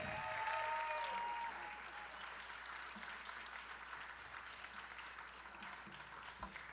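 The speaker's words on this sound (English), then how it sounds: "One more round of applause." Retirement party audience applauding, a sustained wash of clapping that is loudest at the start and then settles to a steady, even level through to the end.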